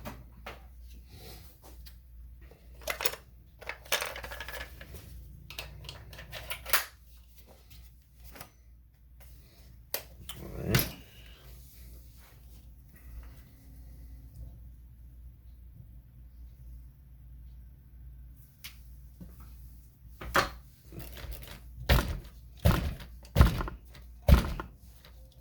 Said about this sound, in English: so I will pop 2 AA's in the bottom here.